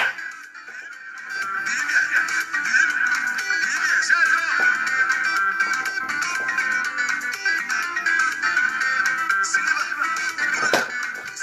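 A telephone ringtone plays for more than ten seconds as a dense, continuous tune with a steady melodic line and a busy, slightly distorted texture, fairly loud and with no voices over it.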